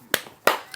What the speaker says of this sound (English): So we'll clap it up for them.